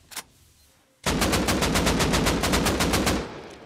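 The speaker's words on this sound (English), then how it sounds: "I'm just shooting through the smoke." Gunfire in Rust console edition on PS5: one sharp lone shot, a short pause, then a loud, close, steady automatic burst of about a dozen evenly spaced rounds that stops abruptly.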